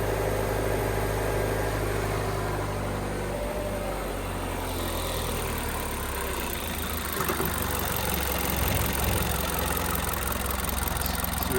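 A crash-damaged Jaguar F-Type engine idles unevenly with no air mass sensor fitted, a steady, close, lumpy rumble with slight wavering over the whole stretch.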